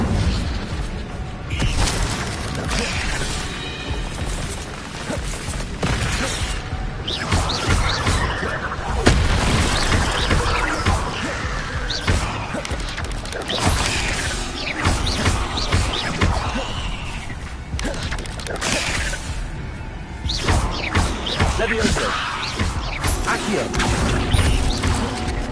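Spell effects in Hogwarts Legacy, including the Incendio fire spell, come as loud continuous combat noise: bursts, crashes and booming impacts layered densely throughout, with no clear gaps.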